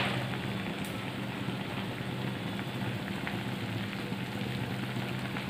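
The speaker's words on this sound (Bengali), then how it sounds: "2টো তেজপাতা দিলাম, আর একটু গোটা গরম মশলা দিয়ে দিলাম।" Bay leaves and whole garam masala sizzle steadily in hot oil after paneer and cauliflower were fried, a continuous close crackling hiss with no talk.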